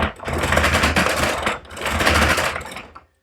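A handmade mechanical calculator is cranked, giving two bursts of dense whirring and clicking gear noise, each over a second long, separated by a short pause, close and fairly loud.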